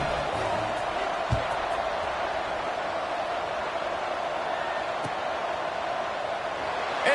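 Football stadium crowd before kickoff, a steady broad roar of many voices filling the air, with a couple of brief thumps standing out over the continuous noise.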